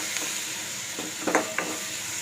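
Spices sizzle in hot oil in a pan, a quiet steady frying hiss with a few brief louder crackles and stirs, heard alone up close.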